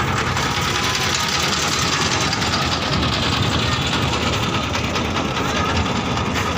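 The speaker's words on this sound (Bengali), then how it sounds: "এই যে ট্রলার নিয়ে বাইর হয়েছি।" A trawler boat's engine chugs steadily on a river after rain, loud and close, a continuous mechanical drone with a knocking pulse that never lets up; no voices stand out.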